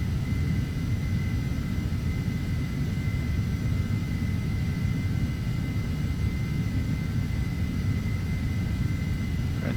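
Embraer jet engines holding takeoff thrust during a climb in Flight Simulator X, a loud, steady low rumble with a faint constant whine above it, unbroken throughout and with no voices.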